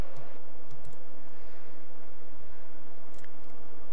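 Computer mouse and keyboard clicks while a Go game record is reloaded on screen, a steady patter of soft, close taps over a dull, noisy background hum, with no voice.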